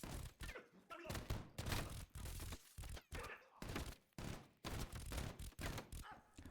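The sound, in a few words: gunfire in a firefight from video game Call of Duty Cold War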